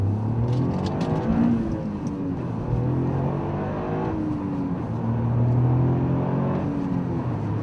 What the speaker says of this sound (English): the exhaust is now actual exhaust sound rather than the sort of synthetically pumped in audio that it used to be